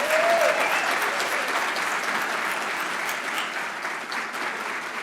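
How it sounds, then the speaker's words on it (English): Dense, steady applause fills a banquet hall at the Texas Supreme Court Historical Society's annual John Hemphill Dinner, sustained and fairly loud from start to finish with no voice over it. "Mark, would you stand and let us clap for you?"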